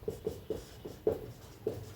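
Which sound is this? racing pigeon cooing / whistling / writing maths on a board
writing maths on a board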